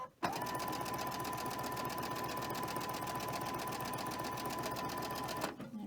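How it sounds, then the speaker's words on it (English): Sewing machine running continuously while stitching quilt pieces together, a steady, even motor whir with a rapid mechanical needle rhythm, close and moderately loud for several seconds before stopping abruptly. "now I'm just sewing one end and then I'll stop and sew the other end"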